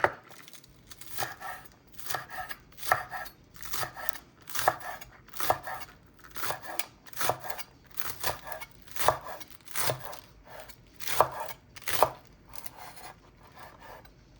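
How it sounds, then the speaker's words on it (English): A knife chops pickles on a cutting board in a steady, rhythmic series of sharp, close knocks that continues for the whole stretch, with no talking. "All right, now I'm going to chop it up."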